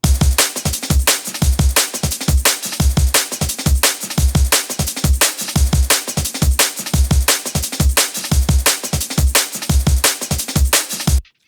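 A processed drum and bass drum loop plays steadily with booming kicks and bright, tight percussion hits in a driving, even rhythm, ending abruptly.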